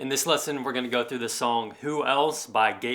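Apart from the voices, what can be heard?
No everyday noise stands out behind the speech.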